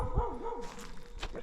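A dog gives a short yelping bark with a warbling whine, then a couple of quieter yips, nearby outdoors over faint background noise.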